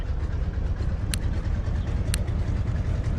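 A Stearman biplane's radial engine idles in the Microsoft Flight video game, a steady low throbbing drone with faint rhythmic pulsing and two brief clicks, continuous and fairly loud with no talking.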